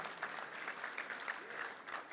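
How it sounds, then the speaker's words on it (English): A luncheon crowd at the Little Rock Touchdown Club applauds Steve East for 31 years of service, a steady, dense wash of clapping heard faint and somewhat distant, with no pauses. "Let's give a round of applause for Steve East for 31 years."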